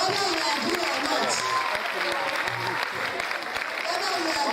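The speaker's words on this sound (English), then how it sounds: "Clap your hands." An audience at a university mentoring event for female students claps their hands in a sustained round of applause, with a speaker's voice carrying over the continuous clapping.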